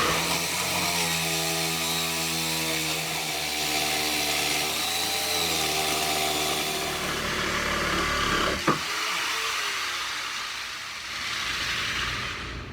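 A handheld jigsaw cuts wood, its motor buzzing steadily with a wavering pitch for several seconds before a sharp click and a quieter rustling hiss; the blade later came out of the tool.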